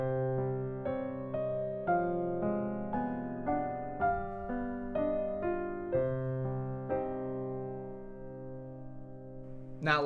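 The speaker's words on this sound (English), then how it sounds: "On the piano, it sounds like this." A slow, eerie melody is played on piano, single notes struck one after another in a steady, measured rhythm, each ringing and decaying, alone and fairly soft with no talk.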